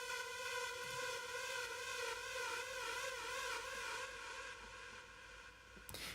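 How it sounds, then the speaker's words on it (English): A synthesized rave alarm drone for tech house holds steady, a wavering siren-like tone with a gently warbling pitch, sustained throughout and fairly faint, cutting off briefly near the end. "So in a lot of tech house, you get these kind of cool alarm, droney kind of sounds."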